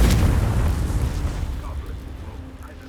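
Confringo explosion spell in Hogwarts Legacy: a loud, broad blast right at the start that rumbles and fades over a few seconds, with faint game ambience underneath.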